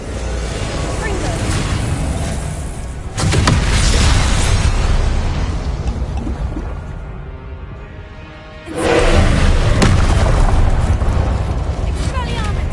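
Confringo blasting spell explosions in a Hogwarts video game, two heavy loud booming blasts with rumbling tails over a dense, continuous background roar.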